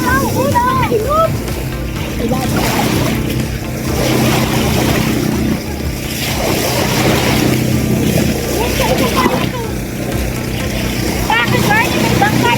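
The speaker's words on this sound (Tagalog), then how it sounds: "May bangka na naman!" A motorboat engine drones steadily throughout, with water and wind noise around it and people chattering and calling out over the top.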